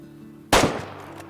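A single sharp rifle shot from a powerful scoped hunting rifle rings out in Way of the Hunter, a loud close crack after a quiet hum, its echo decaying over a fraction of a second.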